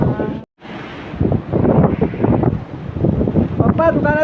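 Strong storm wind roars and buffets against the microphone in heavy gusts during torrential rain, with a brief dropout early on and a voice briefly audible near the end.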